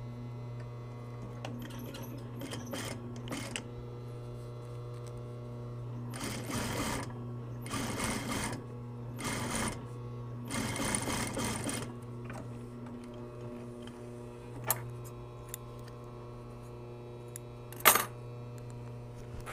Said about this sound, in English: if need be, you can top stitch